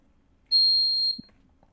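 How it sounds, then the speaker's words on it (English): A loud, steady electronic beep sounds alone for about half a second, a single sustained tone that cuts off cleanly, followed by a faint low thump. "That was a loud beep."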